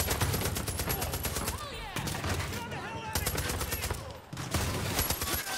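Rapid bursts of automatic gunfire ring out in the Far Cry 5 video game, several loud rattling volleys separated by short pauses and mixed with game effects.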